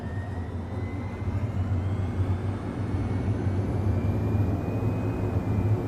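Single-engine crop-dusting aircraft in MSFS 2024 career mode revving up to taxi toward the runway, a steady low engine drone that stays loud and constant throughout, with no voices.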